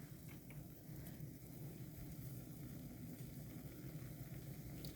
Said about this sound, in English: Okay, it's starting to boil.